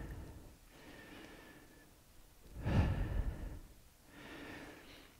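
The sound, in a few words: easy breathing during a yoga pose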